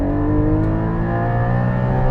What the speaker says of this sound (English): I've got the exhaust on loud, but I'm just experiencing full induction noise